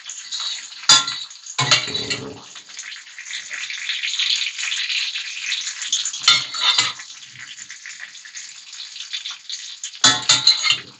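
Carbonara pasta stirred in a pan over reduced heat, with utensils scraping and clinking against the pan in bursts over a steady, close sizzle.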